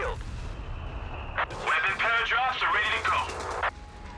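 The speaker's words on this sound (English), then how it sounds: "Barrage is coming in." An artillery barrage in Company of Heroes 3 lands as a burst of booming, crackling impacts over about two seconds, heard under a caster's voice in a 2v2 match on the Dunkerque map.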